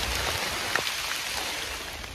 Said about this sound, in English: Nothing like hiking in the rain. Coming down pretty steady